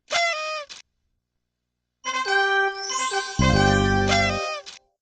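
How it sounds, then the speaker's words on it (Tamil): A reedy, honking party horn in a Barney video game blares in short bursts, then a longer wavering toot joined by a low buzzing tone, bright and close. "அது ஒரு பார்ட்டி ஹார்ன் போல ஒலிக்கிறது."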